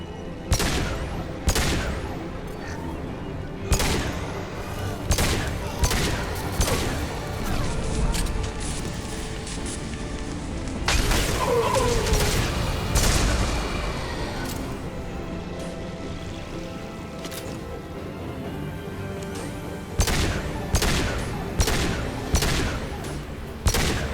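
Gunfire and explosions from the Suicide Mission in Mass Effect 2 Legendary Edition: dense, loud volleys of shots and heavy impacts keep going throughout, with sharper bursts near the start and end.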